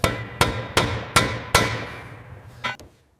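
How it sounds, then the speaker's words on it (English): A hammer knocks the wheel spinners tight on a 1967 Shelby Cobra, five loud sharp metallic blows at an even pace, each ringing briefly, then two quicker lighter taps. "Knocking the spinners tight."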